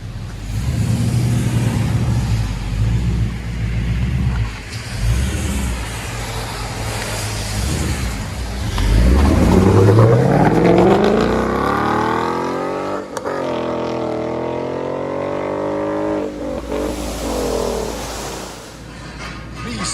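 A Ford Mustang 5.0 GT V8 fitted with an aftermarket exhaust revs repeatedly, deep rumbling climbing into loud sweeping rises and falling back to a burbling idle, close and unaccompanied by speech.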